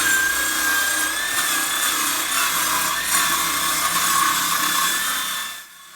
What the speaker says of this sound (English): Right now we're gonna cut off our little end here with our little battery-powered saw.